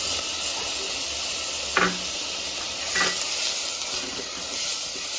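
Tomatoes hit a hot pan over a medium flame while chana dal is being cooked, giving a steady sizzling hiss with a couple of brief louder bursts as the mixture is stirred.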